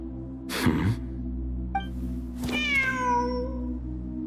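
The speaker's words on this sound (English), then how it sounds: "The cat's showing us the way forward" A cat meows in Genshin Impact: a short chirp, then one clear drawn-out meow falling in pitch, heard alone between two brief bursts of noise over a low steady game hum.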